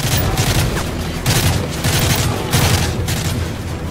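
Gunfire in Call of Duty: Modern Warfare 3 on Xbox 360, rapid automatic bursts and heavy booms in repeated waves, loud and dense throughout without a break, no talking.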